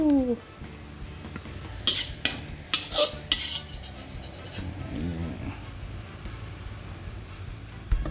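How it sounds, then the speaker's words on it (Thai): A spoon scrapes and clinks against a wok while crocodile-meat basil stir-fry is scooped onto a plate, giving several sharp metallic knocks over a faint lingering sizzle. "เราก็ตักใส่จานจุกรู"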